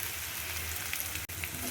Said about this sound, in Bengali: পেঁয়াজ কুচি রসুন কুচিটা এইভাবে ভেজে নেবেন সুন্দর করে